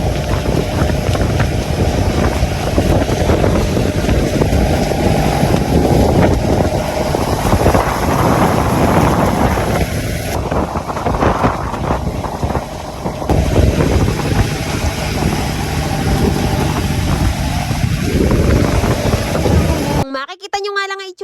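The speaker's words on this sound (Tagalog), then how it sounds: "Binibilisan kasi ni Buyok ang paandar nga nitong aming bangka" Loud, continuous droning of a small fishing boat's engine pushing hard through big waves in a storm at sea, rough and roaring with shifting pitch, wind and water noise mixed in, cutting off abruptly at the end.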